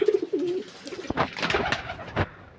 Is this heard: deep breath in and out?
no